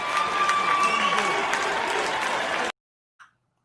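People clapping in a room of election workers as Republican election observers are removed, a busy burst of crowd applause with voices that cuts off abruptly, followed by a brief faint sound.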